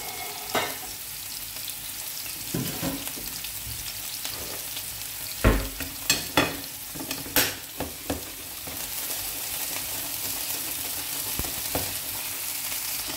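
Meatballs fry in a pan with a constant loud sizzle. A few scrapes and knocks from stirring break through near the middle, and no one speaks.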